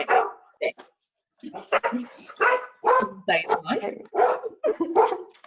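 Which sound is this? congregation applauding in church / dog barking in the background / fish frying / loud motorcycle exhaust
dog barking in the background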